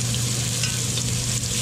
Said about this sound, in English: throw some more oil in here, and then we're gonna put some onions and carrots in here